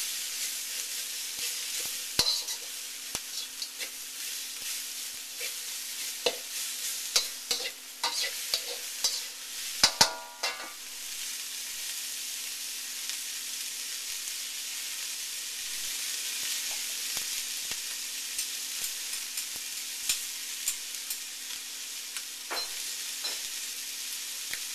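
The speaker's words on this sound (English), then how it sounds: "And scrape the pan down a little bit." Szechuan chicken sizzling steadily in a frying pan while a utensil stirs and scrapes the pan, with irregular scraping clicks and one sharp clatter over a constant hiss.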